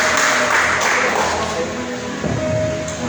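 A church congregation claps together during a couples' sermon service, a loud, dense patter of hands filling the room, with a voice running underneath.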